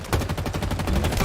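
Rapid automatic gunfire from a player's weapon in the Halo Infinite video game, a steady stream of close, loud shots rattling on without pause.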